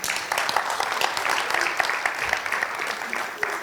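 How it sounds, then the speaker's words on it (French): An audience applauds together in a French-speaking gathering, a dense, continuous wash of many clapping hands at fairly close range, holding steady for the whole stretch. "Si on est d'accord, on applaudit."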